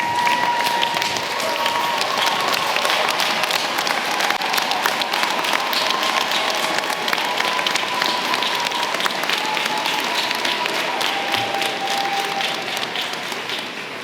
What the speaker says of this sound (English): everyone stand up and give that 143 new doctors a round of applause